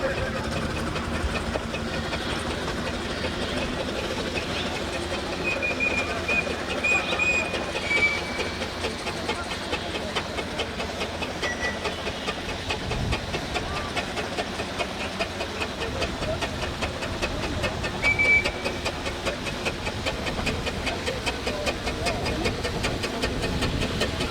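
Steam traction engines rolling into a steam rally, a steady mechanical chuffing and rumbling drone with rhythmic clanking that persists throughout, heard outdoors with a public-address voice talking over it.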